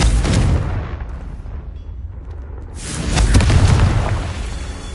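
Two deep, booming blasts from the Confringo spell in a wizard game, one at the start and a louder one later, with a quieter lull between them.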